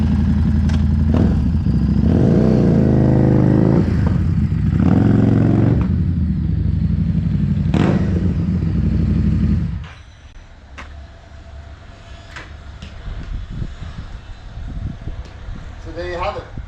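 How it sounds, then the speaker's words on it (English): A Street Rod 750 motorcycle fitted with a Vance and Hines high-flow exhaust revs loudly and repeatedly for about ten seconds, then drops to a quieter idle with clattering. "The Vance and Hines Performance High Flow Exhaust."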